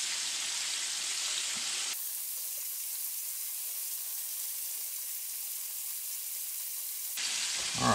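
Saugeye fish pieces frying in hot oil, a steady close hiss and crackle filling the whole stretch, briefly louder at the start and end with a few soft clatters.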